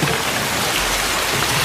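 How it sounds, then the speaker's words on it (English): Heavy pouring rain in a scene from a Rambo film, a dense, loud, continuous hiss of falling water that stays steady throughout, no voices heard. "Pouring rain. Now, is that natural rain, do you think, or is that film rain?"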